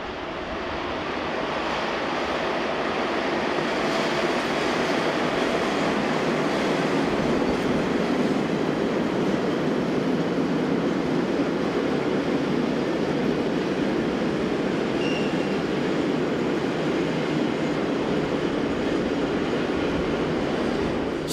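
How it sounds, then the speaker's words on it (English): Class 185 electric locomotive 185042, weather-beaten, hauling empty car transporter wagons on a German main line, rolls past in a steady, loud, continuous rumble with wheel noise lasting throughout, no voices. "A rather weather-beaten 185042 is next to appear with car transporter empties for the Bremen line."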